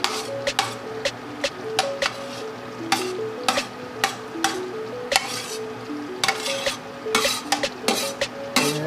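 Ham and hotdog simmering in spaghetti sauce with steady sizzling, broken by repeated sharp clinks and scrapes of a utensil stirring against the pan in an irregular rhythm.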